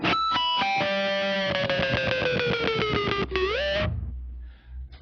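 Heavily distorted electric guitar note bent down with the whammy bar and rhythmically chopped by a kill switch, loud and saturated, ending in a rising swoop and then a brief quiet tail.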